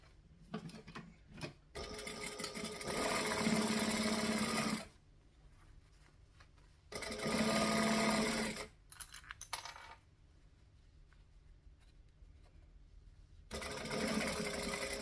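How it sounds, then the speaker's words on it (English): A sewing machine stitches down the side of fabric in bursts of rapid mechanical whirring, with three loud runs separated by quieter pauses filled with small handling clicks. "And I'm going to stitch down the side."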